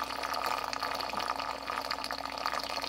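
Water draining steadily through a PVC and duct-tape bell siphon in an indoor aquaponics tank with goldfish, a continuous rushing, gurgling flow at close range with no talking.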